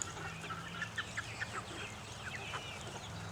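Chickens cluck softly in a yard, a few faint short calls over a low steady background hum, with no one speaking.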